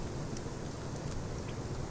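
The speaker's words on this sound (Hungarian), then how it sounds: "Esik az eső. Tök jó." Rain falls steadily in the survival video game Rust, a dense and constant hiss of drops with faint scattered patters throughout.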